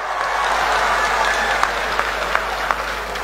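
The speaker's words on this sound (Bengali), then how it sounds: "কেশব মহন্তৰ জন্য একটা বড় হাততালি" Crowd applauding Assam health minister Keshab Mahanta at an event about a medical college hospital, a steady wash of clapping with a few sharper claps standing out and voices faintly beneath.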